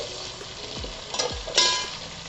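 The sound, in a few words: spices frying in pan for pav bhaji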